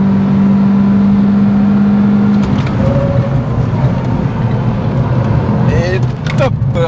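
A car accelerates hard at full throttle along a racing circuit, its engine roaring loud and close in a steady rising drone while people talk over it.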